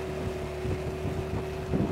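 Outboard motor of a WOPR rescue motorboat running steadily on the Nysa Kłodzka river, a constant droning hum with wind buffeting the microphone, no voices.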